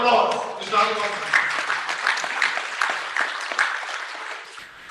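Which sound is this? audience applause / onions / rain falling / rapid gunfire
audience applause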